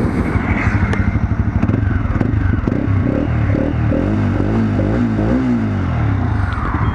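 A modified older Mojo 300 XT motorcycle with dual exhaust revs up close and loud, its harsh, throaty exhaust note rising and falling in repeated throttle blips.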